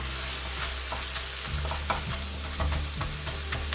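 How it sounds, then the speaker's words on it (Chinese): Beaten eggs with Chinese chives are stir-fried in a hot pan and quickly broken apart to dry off the moisture. A steady sizzle runs under repeated scraping, stirring strokes with no talk. "再快速的抖散，把韭菜里面的水汽炒干"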